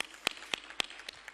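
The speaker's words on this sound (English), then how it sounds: "A big round of applause for Miss Mally." A few sparse, separate handclaps from an audience at a WEF plenary session, crisp and fairly close, spaced out irregularly rather than forming full applause.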